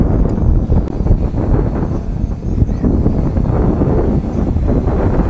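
Strong gusts buffet the microphone outdoors while an MJX Bugs 3 Pro drone flies in windy conditions, a loud continuous low rumble with no speech.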